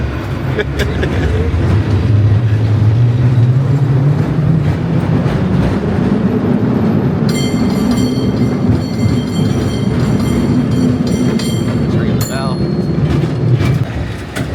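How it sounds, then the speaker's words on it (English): San Francisco cable car rolling on its rails, a loud, steady rumble and rattle that stays close throughout, with a rising mechanical whine, bell-like ringing tones partway through and a few sharp clanks. "Look, there's another trolley."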